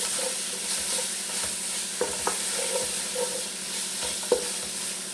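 Masala paste with onions frying in a pan, a steady low sizzle with scattered scraping clicks from stirring, close and fairly quiet with no voices.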